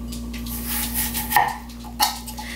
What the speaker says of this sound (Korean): 이렇게 한번 썰어 보겠습니다. 먼저 한번 채를 썰어 볼게요.